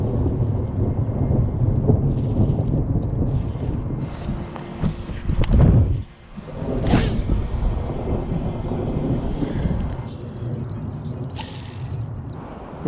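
Heavy thunderstorm with rain heard from a sheltered spot, a loud rumbling thunder roll building and cracking mid-way over a constant dense hiss of rainfall.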